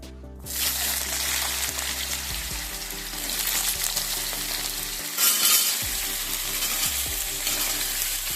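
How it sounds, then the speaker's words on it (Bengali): Potato pieces drop into hot oil already holding fried chillies and fry with a loud, dense sizzle, broken by repeated stirring and scraping against the pan. "আমার তেলের মধ্যে ফড়ং লঙ্কা ভাজিয়ে গেছে, এর মধ্যে আমি আলুটা দিয়ে দিচ্ছি"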